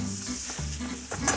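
Broccoli, blanched vegetables and paprika stir-frying in a pan over high heat with garlic, a steady close sizzle with scraping stirs throughout.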